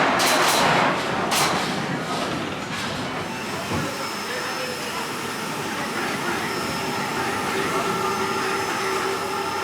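Colorado Adventure mine train roller coaster at Phantasialand, a steady rushing rumble and hiss of the ride with bursts of noise early on, people talking over it.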